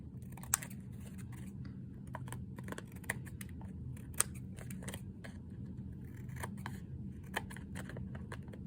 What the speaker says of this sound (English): use scissors to trim the excess